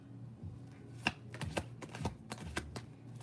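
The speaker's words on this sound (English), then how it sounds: "Oh, wait, let me shuffle this one." Tarot cards being shuffled by hand during a reading, a quiet close series of soft riffling slaps and taps in uneven bursts.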